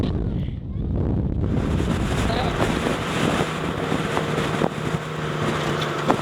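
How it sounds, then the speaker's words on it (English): Strong wind gusts across a coastline on a road trip toward Broome, buffeting the microphone in a loud continuous rumble with wave-like surges, briefly quieter at the start. "it's windy as hell"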